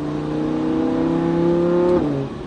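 A sports car, a Ferrari F8 Tributo or Lamborghini Huracán, accelerates hard on a circuit, its engine note climbing steadily and loud for about two seconds before easing off.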